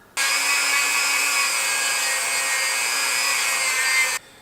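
A Dremel rotary tool grinds steadily into a small wooden ring, a continuous high buzzing whine that runs unbroken for about four seconds and then cuts off abruptly. It is close, loud and has no talk over it.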